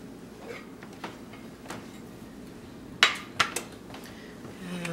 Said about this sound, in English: So let me grab a little plate